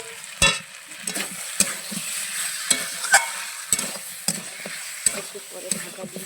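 Meat curry with large potato chunks frying in a pan as it is stirred, a soft steady sizzle broken by repeated sharp scrapes and clacks of the spoon against the pan, close and moderately loud.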